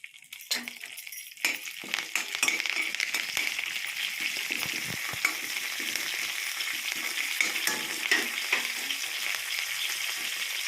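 Kodo millet upma cooking in a hot pan, a steady loud sizzle and crackle of frying with scraping stirring strokes and occasional metallic clinks of the spoon, continuous and close throughout.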